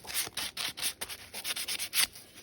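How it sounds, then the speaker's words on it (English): Sandpaper is rubbed over creased paper on an art journal page, close, quiet back-and-forth scratchy strokes in a steady rhythm of about a dozen passes, alone with no voice. "what I like to do is crease it a bit and then sand over the creases"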